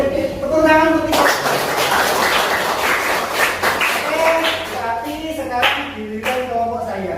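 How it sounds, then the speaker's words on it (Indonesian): A classroom of students claps together in applause for their group, a dense burst of hand claps with a teacher's voice speaking over and after it. "tepuk tangan untuk kita"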